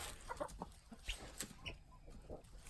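Several farm chickens cluck in short, scattered bursts on a farm during mid-February chores, fairly faint and close, with no talk.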